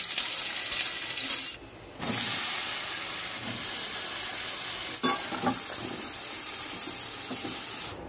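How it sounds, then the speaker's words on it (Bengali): Ridge gourd curry frying in a pan with five-spice and onion tempering, a steady close sizzle and hiss with a short break and faint stirring clinks. "ঝিঙের ঝাল বসাই, 5 ফোড়ন, একটু পেঁয়াজ ফোড়ন,"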